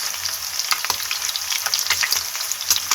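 Pork pieces sizzle and crackle steadily in a pan, with intermittent scraping clicks as they are stirred, close and fairly loud throughout.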